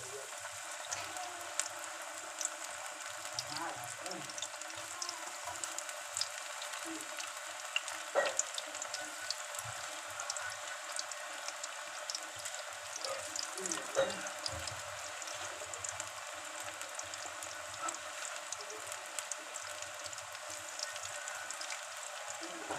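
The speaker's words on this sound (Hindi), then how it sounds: "अब छोटा छोटा करके इसको तेल में, मेरा तेल जो है गर्म हो गया है, अब हम इसको डाल रहे हैं" Small green onion pakoras sizzle and crackle steadily in hot oil, a dense, even frying hiss with scattered pops and a brief stirring clatter, close by and alone.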